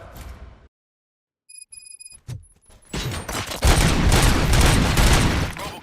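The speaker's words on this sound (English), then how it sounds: "Gunshots? What's going on?" Gunshots in the Robocop: Rogue City video game, a brief silence broken by beeping tones and sharp cracks, then a loud, dense burst of rapid gunfire and chaotic noise that continues to the end, with no talking.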